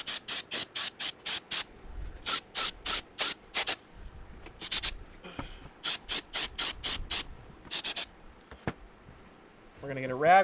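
Repeated short, sharp bursts from a spray bottle as cleaner is sprayed onto Mercedes 722.6 transmission solenoid parts, quick trigger pulls in clustered runs, close and crisp, with a brief voice at the end.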